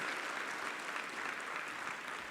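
An audience at the Lokrang event and Ravindra Sabhagam Kendra inauguration claps in steady, dense applause, honoring vaccination workers. The sound is continuous and moderately distant and fills the whole moment without a voice over it.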